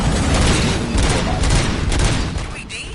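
Gunfire rattles in the video game RoboCop: Rogue City, a dense loud burst of rapid shots and booms that runs nearly unbroken for a few seconds before easing off at the end.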